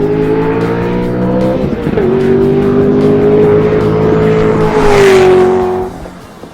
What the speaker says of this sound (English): the Z06 has seriously sticky tires and it sounds fantastic down the straightaways